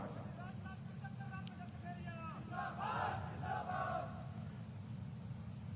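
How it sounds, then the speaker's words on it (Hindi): Crowd at an Uttar Pradesh election rally for the 2024 Lok Sabha polls cheering and shouting in a loud swell over a steady murmur, heard from a distance and fading back down. "आप लोगों ने ताली वाली बजा दी"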